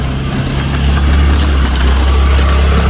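Car engine labouring steadily uphill on a steep road to Kalu waterfall in Malshej Ghat, a loud continuous low drone with constant rumble, close and without talk.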